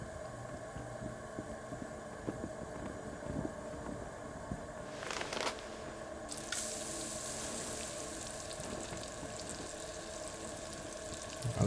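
Liquid pouring and splashing into bottles in the video game Cairn, a steady watery trickle running throughout with a brighter gush partway through, moderately loud with no talk over it.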